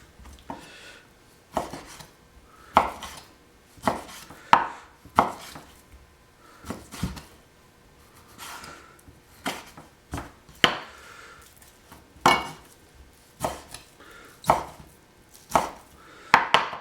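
A Cuisinart 8-inch chef's knife chops ingredients for chili on a cutting board, sharp irregular thunks in short bursts, close and clear with no talking.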